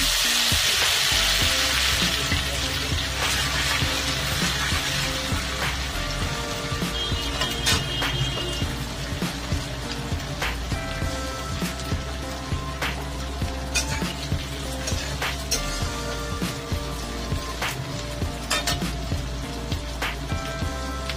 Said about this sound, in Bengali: এখানে 1 চামচ আদা ফোড়নে দিয়ে দিলাম